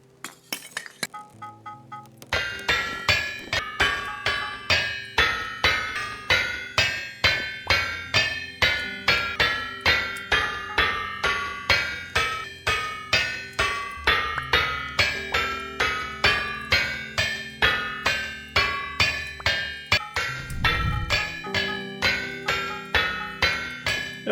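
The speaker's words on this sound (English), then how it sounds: "I got some steel that I need to hammer out" Steel being hammered out, a fast, relentless series of bright ringing metallic strikes, close and loud, keeping an even rhythm for over twenty seconds without talk.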